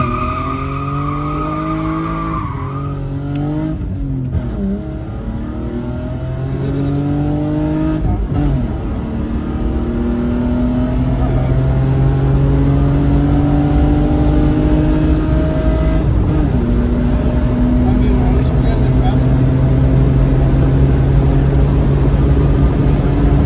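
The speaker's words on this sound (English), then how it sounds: "I'm gonna test drive the car" BMW E36 on a test drive, its engine heard from inside the car, revving up through gears with rising and falling pitch, steady loud engine drone and road noise throughout.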